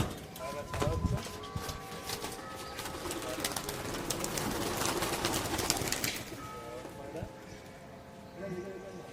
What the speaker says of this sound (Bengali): উল্টোডাঙ্গার 11টা পায়রা